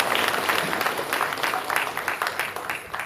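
An audience applauds at a Birsa Munda Jayanti celebration held by a Ranchi association, with steady clapping at moderate volume for about three seconds.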